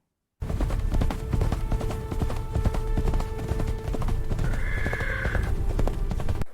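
Steady clip-clop of horse hooves close by, with a short whinny partway through over a constant low rumble.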